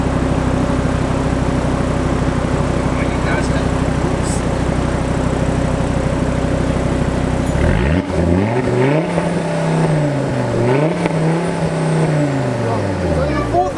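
Audi RS3 with its 2.5-litre engine idling with a rough steady rumble, then revved several times to around 4,000 RPM in rising and falling swells, loud and close, with people talking over it.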